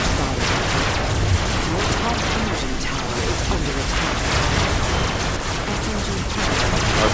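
SMG fire in the vehicle-combat video game Robocraft: dense, continuous rapid gunfire and explosions that fill the whole stretch at steady loudness, with battle noise layered throughout.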